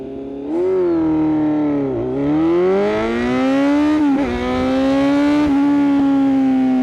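A 2020 Kawasaki Z900 motorcycle engine pulls hard through first gear, its tone climbing steadily with a couple of brief dips, loud and close throughout.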